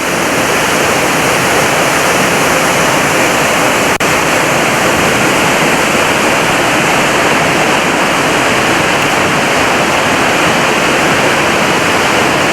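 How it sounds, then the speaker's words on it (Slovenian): Kozjak waterfall in Slovenia pouring and roaring, a loud, constant broadband rush of falling water heard up close with no break and no voices over it. "No, zdaj smo pa pri slapu. Teče, šumi."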